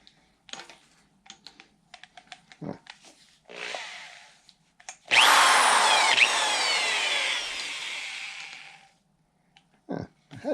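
A drill-driven hone scratches the cylinder wall of a 302 engine from a 1964 Ford Falcon Ranchero, a loud, steady abrasive whir running for several seconds after scattered clicks and handling sounds, then stopping into short clanks.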